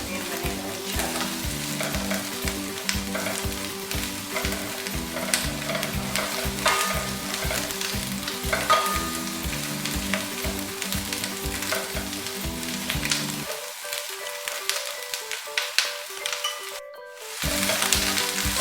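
Chicken Manchurian frying in a pan, a dense sizzle with rapid rhythmic stirring and spatula scrapes close up, the low clatter dropping away near the end leaving only the hiss.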